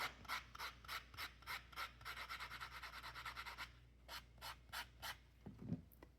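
A nail file rasps at a 45-degree angle to bevel the edge of a wire-wrapped butterfly necklace bar, giving quick, steady back-and-forth strokes, close and fairly soft, with a brief handling clunk near the end.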